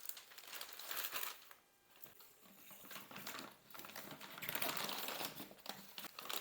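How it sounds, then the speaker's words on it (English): A plastic brining bag crinkles and rustles as it is fitted into a pot before a turkey goes in. The crackling is close and soft, with busy bursts and a brief lull in the middle. "So we're going to set up our pot with the plastic bag ready to go."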